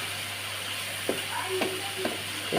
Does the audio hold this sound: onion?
yes